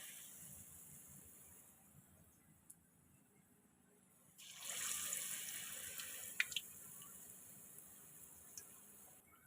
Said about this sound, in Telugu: తీసుకున్న పూర్ణం అయితే ఇలా తీసుకుని ఇలా డిప్ చేసుకుని ఆయిల్లో వేసేయాలి.